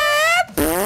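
A loud, close fart noise from a Minecraft Nether creature, a buzzing tonal blast that breaks off briefly and then resumes, heard alone.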